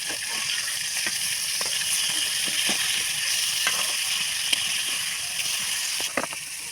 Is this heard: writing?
no